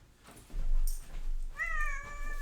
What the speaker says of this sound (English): This is our little cat.